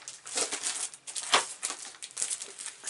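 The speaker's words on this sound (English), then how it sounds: "We've got to open a new packet." A plastic packet of crafting paper is torn open, giving irregular crinkling and rustling bursts close to the microphone with no talking.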